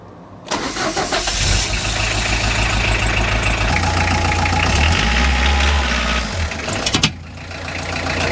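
A Ford Escort van engine revs and labors up close for several seconds as it drives up onto ramps, pitch shifting as it climbs, then cuts off abruptly near the end.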